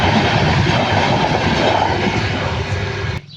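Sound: train passing a closed railway level crossing

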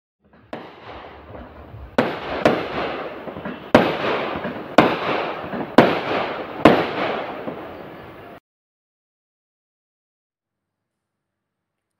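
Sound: firecrackers bursting

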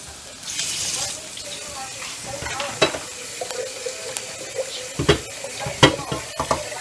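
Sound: water poured into a frying pan

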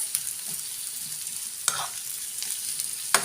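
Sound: onions sautéing until caramelized

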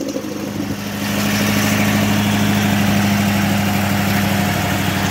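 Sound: Amtex Inferno Core engine started and idling

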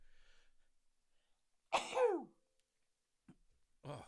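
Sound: sneeze

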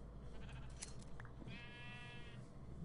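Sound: sheep bleating in a video game

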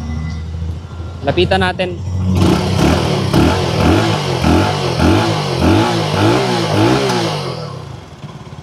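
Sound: FEKON 3GP 300cc single-cylinder sportbike engine running, sound check

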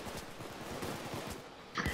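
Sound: gunfire in the video game PayDay 2

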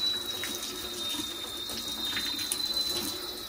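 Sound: water running while washing sewing machine motor parts

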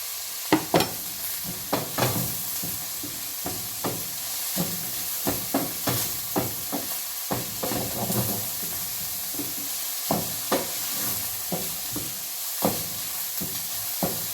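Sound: carrots stir-frying in a pan for egg fried rice

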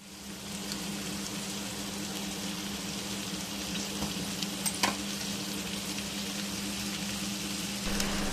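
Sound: vegetables frying in a pan

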